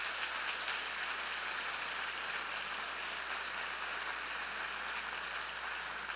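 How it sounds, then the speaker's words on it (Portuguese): Church congregation clapping loudly for Jesus, a dense, continuous rain-like patter of many hands that holds steady throughout, heard quietly at a distance over a low hum. "Então dá uma salva de palmas bem forte para Jesus."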